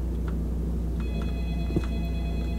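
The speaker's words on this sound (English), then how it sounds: "Answer the phone." Telephone ringing inside a video game: a steady, electronic ring tone that begins about a second in and continues over a constant low hum, with no talking.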